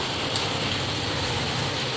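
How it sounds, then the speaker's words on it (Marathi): Heavy rain falling outdoors: a dense, steady, even hiss of downpour with no pauses, loud and close. "आज आमच्याकडे खूप पाऊस पडतो आहे"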